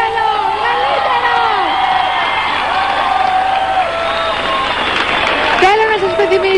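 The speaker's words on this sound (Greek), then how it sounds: "Ένα μεγαλύτερο χειροκρότημα παρακαλώ, μεγαλύτερο." A television studio audience claps and cheers loudly and steadily, with whoops and shouts rising over the dense applause throughout.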